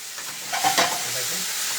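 Light soy sauce, tomato ketchup, hot and sweet sauce and sour sauce sizzling in a pan for hot spicy cheese noodles, a soft steady frying hiss with a brief stirring scrape near the middle.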